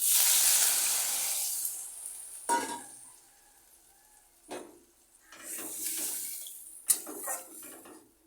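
Water poured into a pan of simmering curry for an egg dish, giving a few short splashing gushes with soft sizzling between them, close by and fairly quiet, with no voices.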